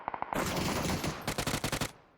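Automatic gunfire in the video game PUBG: a few quick single shots, then two sustained bursts of rapid fire separated by a short gap, loud and close, with no talking.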